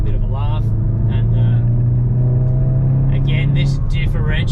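Hyundai i30 N with dual-clutch transmission in N mode, its engine droning loud and rising as it accelerates, the tone holding steady, then dropping away near the end as road noise bursts in.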